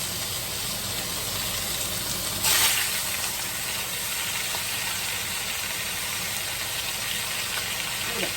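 Herbed pork tenderloins searing in a hot pan, a broad, continuous sizzling hiss with a brief louder burst of spatter partway through, steady and close with no talk.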